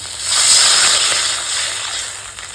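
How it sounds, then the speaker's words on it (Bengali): Broad steady hiss of water coming to a boil in a pot for a village-style fish curry, loud and close, swelling and easing slightly over a couple of seconds with nothing else over it. "জলটা ফুটে হচ্ছে"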